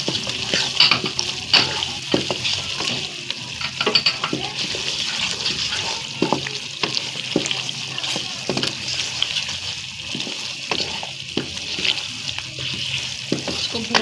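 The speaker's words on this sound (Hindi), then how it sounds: "इसको भूनते जाए भूनते जाए भूनते जाए भूनते जाए इसको" Turnip and meat curry with garam masala sizzling and frying in a pot while being stirred continuously, with a steady close sizzle and repeated scraping strokes throughout.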